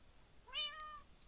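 A cat gives one short, faint meow that rises then falls, alone against a quiet background.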